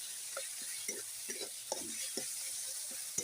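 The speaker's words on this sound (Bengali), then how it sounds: "সুন্দর করে নেড়ে দেখুন।" Food frying in a pan is stirred in short scraping strokes over a soft constant sizzle, close by and fairly quiet, with no talking.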